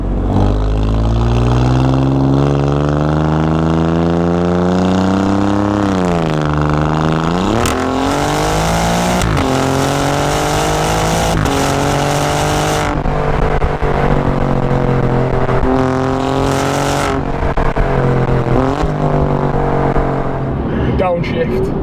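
Alfa Romeo Giulia Quadrifoglio engine heard up close from the cabin, climbing through revs, then a series of sharp throttle blips and crackles on each downshift, loud and continuous throughout.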